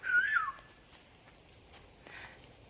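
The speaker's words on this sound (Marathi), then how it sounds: "फणसाच्या झाडावरती कुठेतरी गान कोकिळा आहे," A cuckoo calls from somewhere in a jackfruit tree: one clear, rising-and-falling whistled phrase at the start, then quiet with a faint answering note later.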